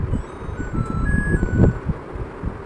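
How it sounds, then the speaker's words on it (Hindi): An LG convection microwave oven beeps after finishing its preheat, thin steady electronic tones sounding over a low, busy background hum. "हमारे अवन के अंदर से अभी बीप साउंड आ गई है और हमारा अवन बेक होने के लिए बिल्कुल रेडी है"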